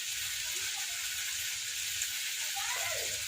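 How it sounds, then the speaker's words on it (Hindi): Vegetables being tempered in a hot pan in a home kitchen give off a steady, loud sizzling hiss that runs unbroken for a few seconds, with faint background clatter. "और अब मैंने सब्जी को तड़का लगा दिया"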